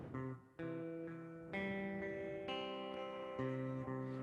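An electric guitar plays sustained chords through a rhythmic delay effect, each strum followed by regular echoing repeats that blur into the next in a steady, time-based pulse; no talking.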